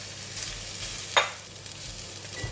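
Rice is stir-fried in a wok with cooked onions and vegetables for Pattaya fried rice, a steady close sizzle broken by one sharp scrape of the spatula midway.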